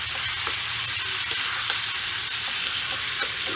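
Three fresh green chillies hit hot oil and tangra fish curry masala in a pan, giving a steady, close, continuous sizzle with light stirring scrapes throughout and no talking.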